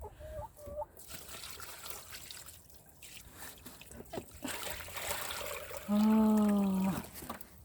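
Water trickles and splashes into a container for chickens on a snowy farm, a soft steady pour that runs throughout, with a clear hen cluck or call rising near the end.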